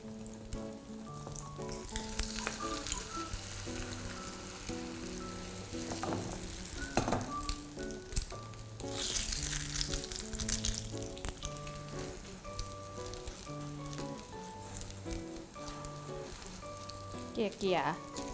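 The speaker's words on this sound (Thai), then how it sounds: "แล้วก็ทอดให้สุกทั้งสองด้านเลย" A thick Thai omelette sizzles steadily in hot oil in a pan, a continuous bright crackle. Tonal music plays underneath, and there are occasional louder spatters.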